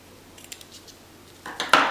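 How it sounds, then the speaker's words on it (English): Scissors snipping vintage white lace trim up close, a few faint light clicks followed by two sharper crisp cuts at the end, quiet and alone. "has this really beautiful kind of vintage white color of lace trim, so I might go with this. I'll just cut that."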